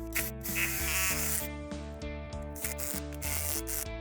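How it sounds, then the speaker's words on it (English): Power driver running 10mm by 100mm galvanised anchor screws into a house wall outdoors, making a loud pulsing mechanical whir with a rapid, regular stuttering rhythm through the whole stretch. "So now we're attaching our 10mm by 100mm long anchor screws into the house."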